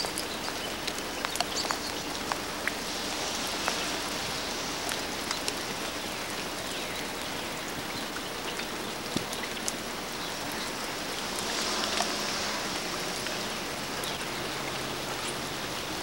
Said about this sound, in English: And like a nut, I'm standing in the rain. I'm getting wet.